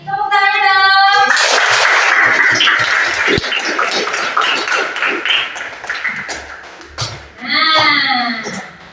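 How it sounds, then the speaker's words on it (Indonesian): A room of students at an Islamic lesson on reaching puberty bursts into sustained clapping for several seconds, loud and close, with children's voices calling out over it before the noise fades and talking returns. "Tepuk tangan dong."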